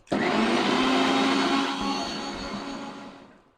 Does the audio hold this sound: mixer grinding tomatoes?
yes